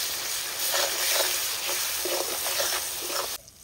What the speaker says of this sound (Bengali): শুকনো লঙ্কা, এখন সুন্দর করে একটু ভেজে নেব।